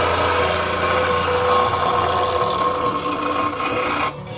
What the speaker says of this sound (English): That was a really, really good grind right there.